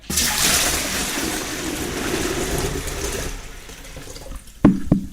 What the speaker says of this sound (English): And let's pour that water into here.